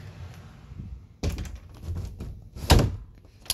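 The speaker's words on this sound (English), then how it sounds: "You have been waiting so long to open this big old secret door." A big old secret door opening in a plush-toy play scene, heard as a few dull thunks and scraping knocks, the loudest near the end, close and alone.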